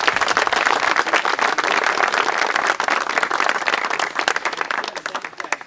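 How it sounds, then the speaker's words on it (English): A crowd applauds honorees at a camp's 100th anniversary plaque ceremony, sustained dense clapping throughout, loud and steady before tapering slightly at the end. "Round of applause for these great people."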